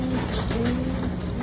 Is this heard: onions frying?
no